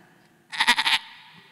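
During a religious talk, a man imitates a baby goat bleating with one short, quavering, high-pitched bleat of about half a second, loud and alone against a quiet background.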